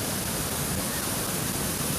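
Creek water flows in a steady, dense broadband rush, close and continuous with no variation, with no voices.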